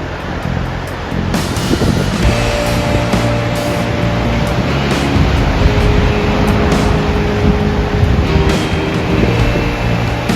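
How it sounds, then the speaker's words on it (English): High ocean surf pounds the west coast shore after a huge overnight storm, a loud unbroken roar of breaking waves mixed with gusting wind buffeting the microphone. "It was a huge storm last night, and so the waves are high today."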